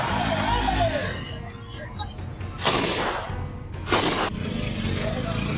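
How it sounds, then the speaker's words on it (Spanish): Two loud, sharp gunshot bursts ring out a second apart through constant background noise, each with a brief trailing echo. "Fueron más de 8 disparos los que estos delincuentes realizaron contra padre e hijo"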